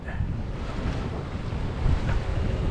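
Wind roars steadily across the microphone at sea aboard a sailboat in cold, blustery weather, with a continuous rushing wash of air and water that swells slightly, and no voices.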